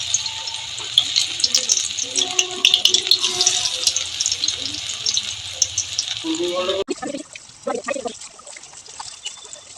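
Mustard-flower fritters in a flour, rice-flour, turmeric and salt batter frying in oil, with a busy close sizzle and clattering for about seven seconds. The sound then cuts to a quieter, sparser scene.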